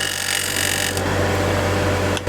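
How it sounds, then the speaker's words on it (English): A small gouge cuts into the corner of a wooden tray spinning on a lathe, a loud, steady scraping hiss over the low hum of the machine. "A little gouge here, so I can get in that corner more efficiently."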